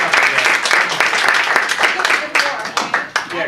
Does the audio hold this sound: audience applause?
yes